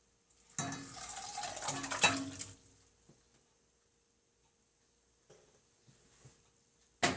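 Liquid pours into a pot for about two seconds, a wet splashing rush, followed by quiet with a few small clinks and a soft stir.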